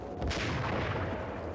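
A single heavy sniper rifle shot in Max Payne, loud and close, its sharp crack giving way to a long rumbling echo that fills the rest of the moment.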